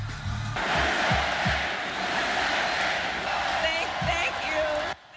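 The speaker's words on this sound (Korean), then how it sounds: "해리스 부통령이 손을 흔들며 무대로 걸어 나오자 열광적인 환호가 터져 나옵니다" A large rally crowd cheers and whoops enthusiastically as Vice President Harris walks onto the stage, a loud, sustained roar that holds steady before cutting off abruptly near the end.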